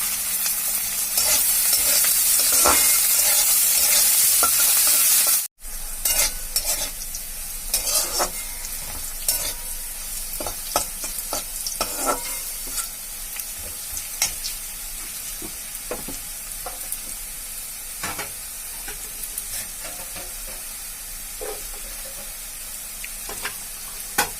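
Onions fry in a pan with a loud, continuous sizzle while a spatula stirs and scrapes in irregular clicks and knocks, broken by one brief drop near the start.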